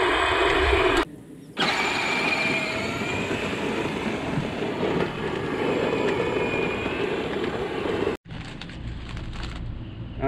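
Loud, steady tractor engine drone running at a campsite, a continuous rumble with two brief dropouts.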